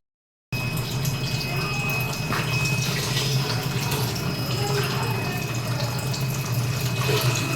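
Water poured into a cooking pot for mutton biryani, a steady rushing splash that begins suddenly and continues throughout at close range.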